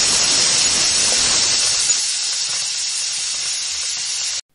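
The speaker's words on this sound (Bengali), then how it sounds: "এই প্রেসার কুকারে তো 3-4টে সিটি দিলেই হয়ে যায়।" Pressure cooker on a gas stove cooking dal and vegetables, a loud, continuous hissing rush of escaping steam that holds steady for about four seconds and then cuts off abruptly.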